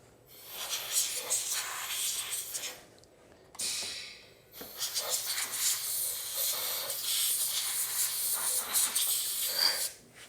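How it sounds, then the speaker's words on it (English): Compressed air hisses in loud, steady bursts while cleaning parts of a Yard Machines 21-inch push mower, with a brief pause near three seconds and another short gap before a long continuous blast. "Give that a spritz of air."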